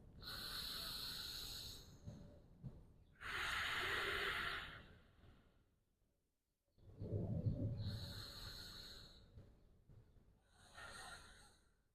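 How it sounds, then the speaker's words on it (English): A person doing a yoga twist during a vinyasa flow takes slow, deep breaths in and out. Long, airy breaths come in a steady rhythm, close and fairly soft, with quiet gaps between them. "Let's take a deep inhale here into the belly."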